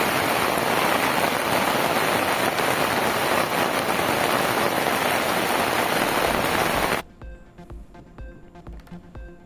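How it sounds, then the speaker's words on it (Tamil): Steady, broadband rain falling during a widespread downpour across districts of Tamil Nadu, a dense continuous hiss of drops on surfaces for about seven seconds before it cuts off abruptly to quieter background sounds. "தமிழகத்தில் தஞ்சை, நாகை உள்ளிட்ட பல்வேறு மாவட்டங்களில் பரவலாக மழை."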